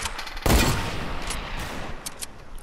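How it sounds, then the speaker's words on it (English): Video game gunfire: a sharp, loud burst of shots at the start followed by scattered fainter cracks trailing off over a couple of seconds, with no one talking. "Dude, are you being shot at?"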